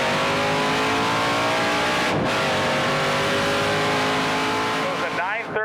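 Drag race car with an unhealthy engine firing on only seven cylinders, popping badly: a loud, close, continuous rough engine roar with a brief dropout midway and a rising rev at the end, voices under it.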